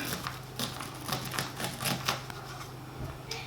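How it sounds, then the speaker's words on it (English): Knife slicing corn kernels off the cob for chili, giving a run of quick, close crisp cuts and snaps in an uneven rhythm over a steady low hum, with no talking. "So I'm gonna cut a bunch of them off"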